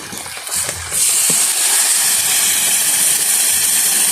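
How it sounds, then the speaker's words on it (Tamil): Rain setting in outdoors in a village kitchen, a dense steady hiss that swells suddenly after a quiet start and then holds loud and continuous, with no talking. "மழை வந்துட்டுது."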